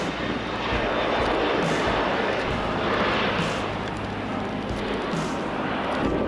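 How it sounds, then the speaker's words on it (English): Airplane taking off from an airport runway, a steady loud roar of jet engines that swells and surges throughout, heard from nearby outdoors. "The plane's about to take off."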